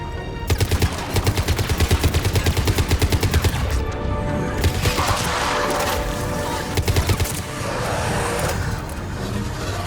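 Rapid automatic gunfire from Mass Effect 3 combat on Omega comes in loud repeated bursts of rattling shots, with brief pauses and continuous battle noise between volleys.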